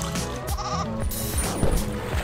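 Goat bleats ring out in a video game over a dense, loud backdrop of game music and effects, with several short wavering calls in quick succession.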